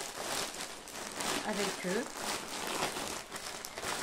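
A parcel from an online order is unwrapped, with crinkling and rustling packaging in bursts that run under steady talking.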